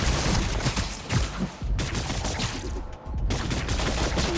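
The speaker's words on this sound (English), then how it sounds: "Almost done de-icing." Ice being smashed and cleared off a construction crane in a Spider-Man Miles Morales video game, heard as rapid, loud, dense crackling bursts with brief pauses.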